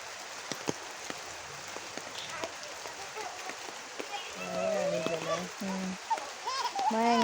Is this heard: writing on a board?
no